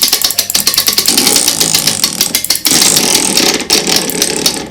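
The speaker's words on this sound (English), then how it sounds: "Then reverse the flow on the spring winder and unwind it." Clock mainspring being unwound on a spring winder, a dense run of rapid ratcheting clicks from the winder's pawl, loud and close, with a short pause partway through before the clicking resumes.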